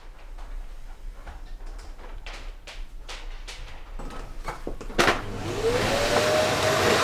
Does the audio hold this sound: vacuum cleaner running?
yes